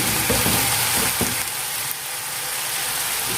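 Vegetables stir-fried with soy sauce and chili sauce, close and loud, with a steady hiss of frying and a few clatters of stirring early on.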